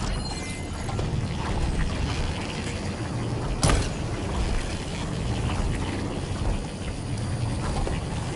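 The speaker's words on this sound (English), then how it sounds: "Shoot the gears when they rotate to the right spot" Rotating gear mechanism in Horizon Forbidden West, a steady mechanical clatter of ratcheting and grinding running throughout, with a brief sharper clank near the middle.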